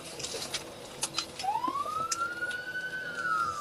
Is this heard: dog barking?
no